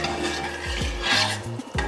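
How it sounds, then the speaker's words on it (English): A spoon stirs and scrapes along the bottom of a pot of milk heating for ginger milk pudding, giving soft rubbing strokes with a few clinking scrapes, close and steady, with no talking. "Always stir the bottom of the milk every now and then"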